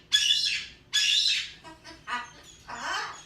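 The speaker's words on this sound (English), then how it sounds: "I woke the birds up." Freshly woken birds give two loud, harsh squawks close by, followed by a few shorter chirping calls and a final drawn-out squawk, with nothing else heard.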